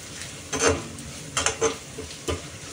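A spoon stirs red chili powder into hot oil in a frying pan while sambar is being made: three distinct scraping strokes, close and clear, over a faint background sizzle.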